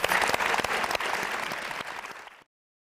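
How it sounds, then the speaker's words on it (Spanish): A seminar audience gives warm applause to panel guests, a dense wash of clapping that starts loud, gradually thins and fades, then cuts off abruptly. "les brindamos un enorme aplauso a nuestros invitados"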